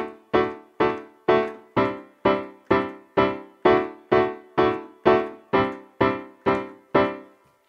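A piano chord is struck repeatedly with the right hand in an even pulse, about fourteen times, each hit ringing briefly before the next, played alone and moderately loud.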